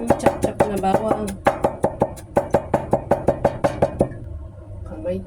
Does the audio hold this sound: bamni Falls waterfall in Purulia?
no